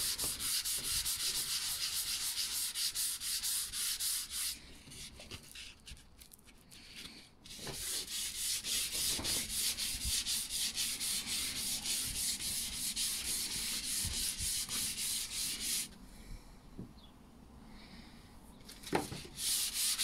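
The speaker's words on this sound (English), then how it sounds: "I'm just sanding it until it feels smooth." Primed hospital bed side skirt is sanded by hand in steady back-and-forth rubbing strokes, close and fairly quiet, with brief pauses and a few small knocks, and no voices.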